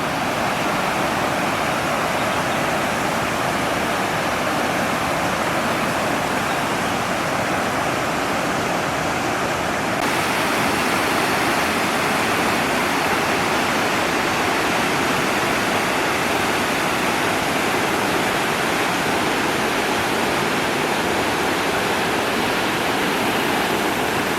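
Thoovanam waterfall near Chinnar in the Munnar area of Kerala roars with a dense, continuous rush of falling water, loud and unbroken throughout, heard close up and alone.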